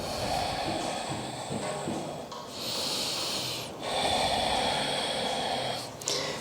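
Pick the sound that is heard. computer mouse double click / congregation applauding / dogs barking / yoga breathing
yoga breathing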